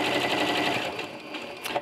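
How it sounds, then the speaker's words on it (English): A sewing machine with a walking foot stitches through layered quilt fabric, running fast and continuous at close range with a steady rapid whir throughout. "We're going to start by putting a nice line of stitching."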